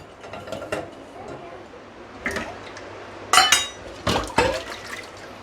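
Dishes and a saucepan are set into the rack of an IFB VX Plus 15-place-setting dishwasher, giving several sharp clattering clinks in separate bursts over a quiet background.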